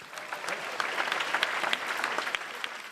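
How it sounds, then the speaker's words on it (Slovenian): An outdoor May Day celebration crowd in Opatje Selo claps steadily throughout, dense overlapping hand claps at moderate distance with no voices standing out. "Še en aplavz, kar sami sebi,"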